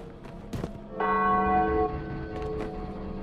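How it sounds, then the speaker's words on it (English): A church bell tolls once, loud and close, in the video game Spider-Man: Web of Shadows. Its long ringing tail sustains and fades, and a couple of short thuds come just before it. "They come to get at the parishioners inside, but then I ring the bell."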